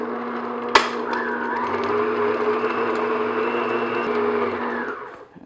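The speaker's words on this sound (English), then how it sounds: "I'm just going to beat the butter until it gets nice and smooth" An electric mixer beats unsalted butter in a bowl, starting with a sharp knock, then a steady close whir that holds for several seconds before winding down.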